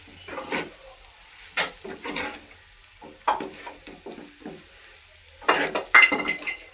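Spatula scrapes and clatters in a pan as bitter gourd fry is mixed with lentil powder, coming in irregular bursts of close metallic strokes with quiet gaps between them.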